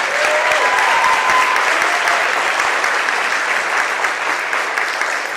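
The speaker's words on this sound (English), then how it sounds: "How about a big round of applause for Kim Louise?" A gala audience gives a big round of applause to a newly introduced executive director, a thick steady wash of clapping from many hands that tapers slightly toward the end, with no talk over it.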